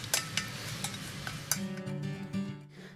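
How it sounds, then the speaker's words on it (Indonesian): Cake batter with butter being stirred by hand for Indonesian cheese tape cake, giving faint scraping and tapping against the bowl, followed by a soft tonal hum. "Lalu kita aduk perlahan-lahan kawan-kawan sampai tercampur rata."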